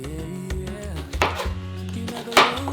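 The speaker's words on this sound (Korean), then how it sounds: "깐 양파를 썰어주고요" A kitchen knife slices through a peeled onion on a cutting board for spicy cream cheese rice-cake dakgalbi, giving a few close, crisp cuts in an irregular rhythm with no talking.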